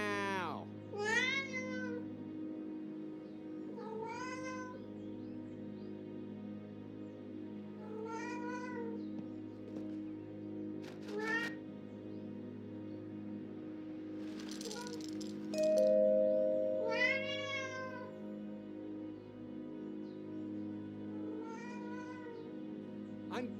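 Repeated meows from a cat in the Alfred Hitchcock Vertigo video game, spaced a few seconds apart over a steady low hum, with a rattle in the middle and occasional rising cries.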